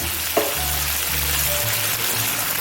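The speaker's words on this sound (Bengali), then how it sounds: "এরপর আমি সর্ষেটা হালকা একটু নেড়ে নেবো" Black and white mustard seeds frying in hot oil in a pan, a steady close sizzle with scraping stirring strokes and a brief clatter near the start, no voices.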